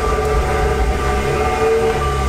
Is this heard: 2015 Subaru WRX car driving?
yes